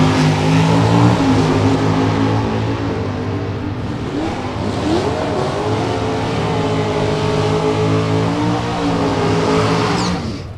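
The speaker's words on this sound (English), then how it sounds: "In an early model body style, late model drag pack engine underneath the hood." A drag racing car with an early model body style and a late model drag pack engine revs loudly down the strip, a dense, sustained roar whose pitch climbs and shifts as it accelerates.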